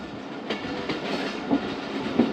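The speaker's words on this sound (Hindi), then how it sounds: "बारह बजकर 30 पर दोस्तों रहीम यार ख़ान पहुंच रही है ट्रेन" Passenger train arriving at Rahim Yar Khan station at night, a steady rumbling roar with rhythmic clickety-clack of wheels over rail joints, close and fairly loud, with no voices.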